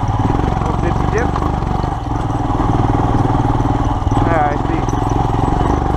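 A 2019 Royal Enfield Himalayan motorcycle rides a mountain trail, its engine a loud steady rumble throughout, with a voice briefly speaking over it.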